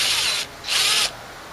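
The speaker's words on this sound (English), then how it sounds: "I'm going to drill another hole and try to get it over there." An electric drill whirs in two short bursts while boring a hole, with a brief pause between them, loud and close.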